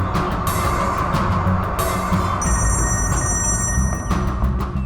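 A telephone rings repeatedly in a tense indoor drama scene, its electronic ring tones pulsing in short bursts over a thick background music bed, with no speech heard.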